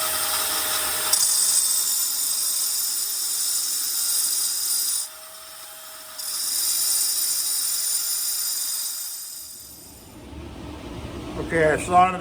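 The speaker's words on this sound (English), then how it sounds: "I sawed it apart" A hand saw cuts steadily through a repair piece for a drilled hole in stone, giving a continuous close rasping that briefly lets up midway, then fades out before some brief handling noise at the end.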